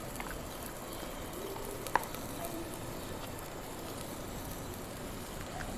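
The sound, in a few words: red chili powder added to potatoes and capsicum frying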